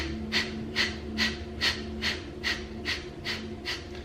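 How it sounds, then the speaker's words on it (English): Rhythmic Kapalabhati breathing: about ten sharp, pumped exhales through the nose at a steady quick pace, close and clear with no talking. "This type of breathing is called Kapalabhati breathing."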